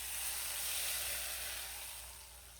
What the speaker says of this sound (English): that mashed garlic is infusing this hot olive oil